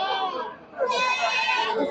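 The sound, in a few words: goats bleating at goat market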